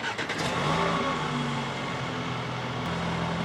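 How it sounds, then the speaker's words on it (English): Audi Q5 cold start: a steady engine note with a brief rising rev near the start, then a settling idle hum that stays loud and continuous throughout, with no talking. "Now time for a cold start on the Audi Q5."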